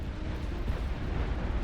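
Plasma cannon fire and explosions from the Legion faction in the real-time strategy game BAR, heard as a dense, continuous low rumble of blasts with no talk over it.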